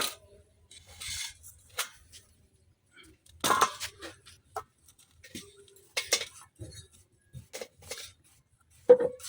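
A knife chops potatoes on a board for frying, giving sparse, irregular crisp taps and cuts separated by quiet gaps, close by, with a faint voice in places.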